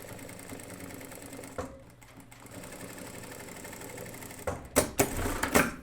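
A sewing machine runs the second seam on a pair of 1990s-style jeans. A low hum leads into loud, rapid stitching bursts near the end, heard up close.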